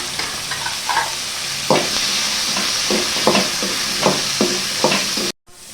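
Onions and tomatoes sauté in a pan with a steady sizzle while a spoon stirs and scrapes in repeated strokes, close and clear.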